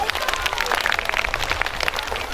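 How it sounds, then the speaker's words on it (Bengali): Schoolchildren clapping for the teacher at a school magic show, a dense, lively patter of hands that runs steadily throughout, close and fairly loud with voices mixed in. "স্যারের জন্য একটা হাততালি দিয়ে দাও।"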